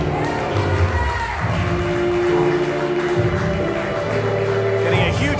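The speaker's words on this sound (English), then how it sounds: "Getting a huge rise from the crowd here is Osirus." Arena crowd at a MAW pro wrestling show roars steadily for Osirus, a dense wash of cheering and murmur with sustained tonal music or horn-like sounds running underneath throughout.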